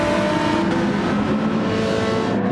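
Race car engines from a Lamborghini and a Porsche in Gran Turismo 7, running close together in a DTM race at the Nürburgring, a steady loud drone that holds for the whole stretch with no voices.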